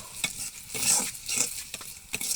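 Chilies and onions fry in hot oil for an eggplant mash, a soft sizzle broken by several sharp scraping stirs of the spatula in the pan.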